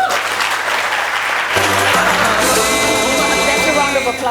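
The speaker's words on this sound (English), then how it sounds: "That's a round of applause." Loud, dense audience applause fills a women-in-film awards ceremony, sustained throughout, with music swelling in underneath partway through.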